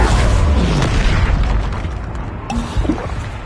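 A spell-casting burst in the video game Hogwarts Legacy, heard as a loud booming blast that fades into rumbling noise, with a couple of faint pops near the end.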